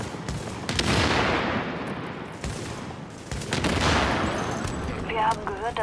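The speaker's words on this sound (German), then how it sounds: "Ja, ich schieße irgendwo gegen." Gunfire in the video game The Division, dense sustained bursts of automatic shots in two long volleys, loud and close, with a voice briefly speaking near the end.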